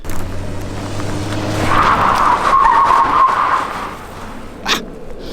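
A car sliding through a reverse 180 spin, with a sustained tire squeal rising over engine rumble for a couple of seconds, then fading, followed by a short sharp thump.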